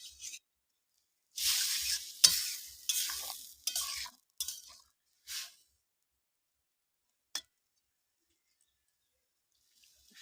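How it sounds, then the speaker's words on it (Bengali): Okra and prawn curry is stirred in a pan, giving several bursts of close scraping and sizzle, then quiet with one brief clink. "ভালো করে একটু নাড়িয়ে নেব।"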